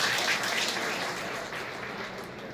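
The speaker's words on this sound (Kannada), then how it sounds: "ಡಾಕ್ಟರ್ ಸುಧಾಕರ್ ಅವರಿಗೆ ಒಂದು ಜೋರಾದ ಚಪ್ಪಾಳೆ ತಟ್ಟಿ" A crowd at a public function honouring a minister applauds, with dense, steady clapping that carries on without pause and fades slightly toward the end.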